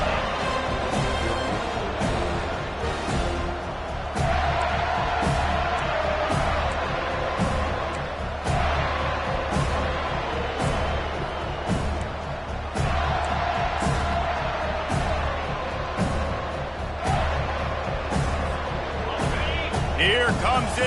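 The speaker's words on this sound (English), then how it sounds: "here comes this home crowd as the defense tries to get off the field on 3rd down" A home crowd roars at a football game as the defense tries to get off the field on third down, a loud, steady wash of cheering with whoops and shouts. A commentator talks over it.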